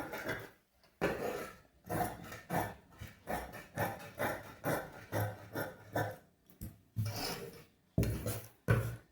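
Scissors cut through blouse lining fabric for a size 41 blouse, giving a close, steady series of short rasping snips with brief pauses and no talking.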